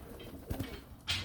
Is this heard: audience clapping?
no